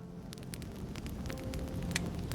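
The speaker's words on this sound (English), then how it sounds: "A fire crackled in the living room." A living-room fire crackles faintly, with scattered small pops and snaps over a steady hiss and low hum, close and quiet, with no voices.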